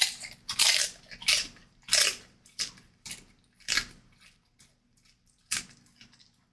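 A pet crunching oddly shaped treats, a series of about eight sharp crisp crunches spaced irregularly, loud and close against quiet background, with fainter chewing between bites and no talk.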